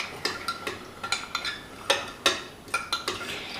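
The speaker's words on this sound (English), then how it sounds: "We're gonna stir it up" A spoon stirs a garlic powder and salt mixture in a small dish, a dozen or so sharp close clinks and scrapes in an uneven rhythm with no talking.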